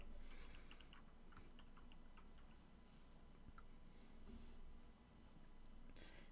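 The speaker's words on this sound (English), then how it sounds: "Typing something good there, bud?" Faint, scattered keystrokes on a computer keyboard click irregularly over a steady background hiss, soft and somewhat distant, with no one talking.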